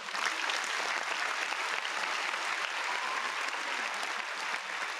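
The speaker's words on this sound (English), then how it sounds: "Let's give her a round of applause really quick." Steady, dense applause from a studio audience welcoming a guest, even and unbroken for several seconds with no talking over it.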